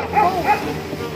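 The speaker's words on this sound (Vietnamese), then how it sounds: "Chó sủa hơi nhiều quá." A dog barks twice in quick succession somewhere outdoors near a boat on the water, the yaps moderately near over a steady background rumble and faint voices.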